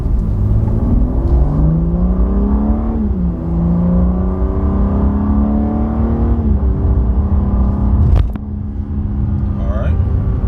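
A BMW G80 M3 accelerates from low speed while the transmission holds each gear longer, its engine note climbing steadily in pitch before a shift and climbing again, loud and close, with occasional speech over it.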